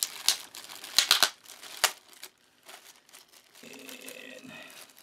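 A simple plastic bag holding a Slovenian MRE, taped shut with cellophane tape, crinkles and rustles as it is handled, with sharp crackling bursts early on, then softer, intermittent rustling.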